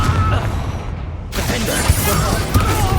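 The Confringo blasting spell in the Hogwarts Legacy video game, a sudden loud burst about midway that cuts in after a quieter stretch and continues as a crackling, shattering roar.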